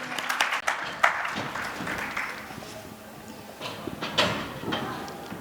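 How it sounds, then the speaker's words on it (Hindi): Applause from an audience at a religious discourse, a Bhagwat Katha gathering, welcoming a guest: scattered clapping that swells in bursts, moderately close and fairly faint. "एक बार जोरदार तालियों से अभिनंदन करें"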